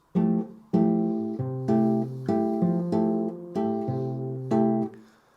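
Acoustic guitar plays a syncopated bossa nova pattern, plucked bass notes under short repeated chord strums, clear and close, about six rhythmic bursts.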